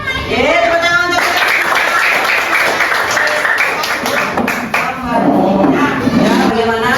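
Students in a primary school class clap together, the steady close clapping running for most of the seven seconds while voices and singing carry on over it.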